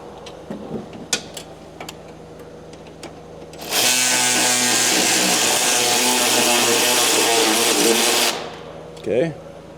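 A loud power tool runs steadily for about four seconds while a fastener is tightened during radiator work on a Ford 6.7 diesel truck, with scattered clanks and handling noises before and after.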